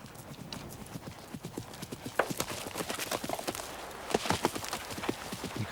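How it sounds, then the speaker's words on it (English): A horse's hooves land and carry on after jumping a fence, a run of irregular thuds and clops that grows denser and louder toward the end, with faint voices in the background. "Always difficult when the horse can't see the landing."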